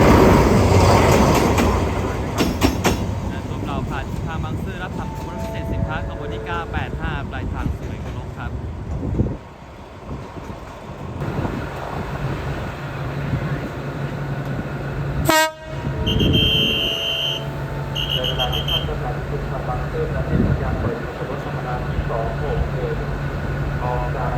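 An Alsthom diesel locomotive of the State Railway of Thailand, number 4106, rumbles past with a rolling train of cars near Bang Sue, sounding a loud horn blast partway through; voices talk over the steady roar.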